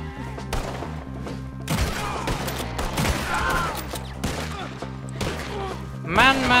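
Gunfire crackles through a Red Dead Redemption 2 shootout: loud, close shots and volleys fire in uneven bursts over a game soundtrack, with someone talking now and then and a sharp rising cry near the end.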